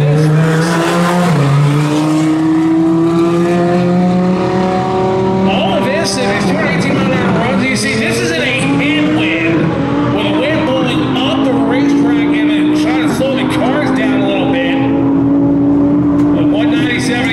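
A 3000+ horsepower drag race car screams down a racetrack, its engine a loud rising whine that climbs and wavers over many seconds, with a commentator talking over it throughout.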